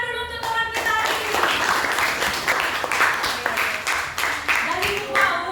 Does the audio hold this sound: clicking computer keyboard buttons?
no